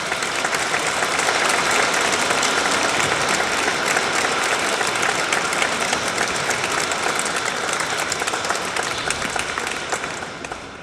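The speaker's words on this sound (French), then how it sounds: "vos applaudissements sont un beau remerciement à votre nouveau curé" A church congregation applauds their newly installed parish priest, Father Eric, with sustained dense clapping that fills the room steadily for the whole stretch, loud and even, with no speech over it.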